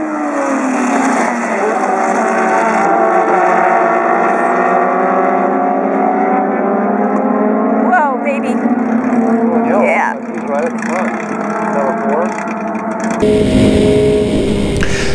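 Historic Formula Atlantic and Super Vee open-wheel race cars at a start at Willow Springs, multiple engines revving loudly and continuously with rising and falling pitch as they accelerate away, recorded from close trackside.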